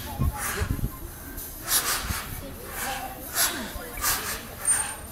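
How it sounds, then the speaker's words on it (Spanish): Dolphins at an aquarium show in Havana breathing through their blowholes, a series of sharp hissing puffs at irregular intervals, close and moderately loud against a quiet background. "van a escuchar cómo respiran los delfines"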